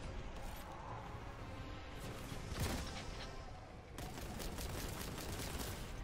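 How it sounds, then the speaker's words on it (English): Shotgun fire in the video game Warhammer 40,000: Boltgun, a dense run of blasts and crashes that swells loudest near the middle and stays continuous throughout. "I was wondering why I swapped to the shotgun."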